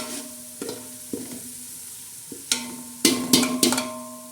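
Masala roasts in a pan for chicken pulao, a steady sizzle broken by several sharp scraping stirs of a spatula against the metal, close and clear with no voices.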